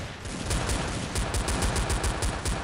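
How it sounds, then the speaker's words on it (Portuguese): Gold dual pistols fire in rapid succession in the Blood Strike shooter game, a dense, steady stream of sharp shots close up, almost machine-gun-like, with no talk over it. "Ela atira muito rápido,"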